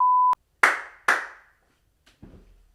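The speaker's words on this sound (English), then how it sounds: "What's the claps for?" A short electronic beep comes first, then two sharp, close hand claps about half a second apart on a podcast set, followed by a dull thud.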